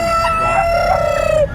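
A rooster crows loudly and close at a poultry stall in the Bocaue, Bulacan pet market, one long sustained crow over a murmur of chickens and market background.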